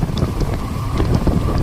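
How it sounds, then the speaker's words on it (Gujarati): Strong wind buffets the microphone during a night ride in Bhavnagar, a steady broadband roar with gusty swells throughout and no speech. "પવન થોડોક વધારે છે,"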